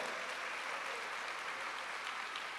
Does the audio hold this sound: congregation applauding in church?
yes